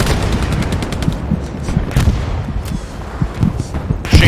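Machine gun fire in a tactical shooter video game rattles in rapid bursts, loud and close, with scattered heavier shots and booms mixed in.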